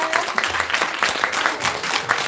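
An audience at a business presentation claps together in a steady, dense burst of applause from many hands, close and sustained throughout, with a little speech underneath.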